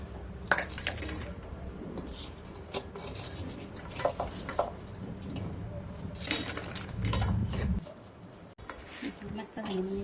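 Fried chillies lifted from a pan onto a plate, with metal utensils repeatedly clinking and scraping against cookware in a home kitchen while someone talks.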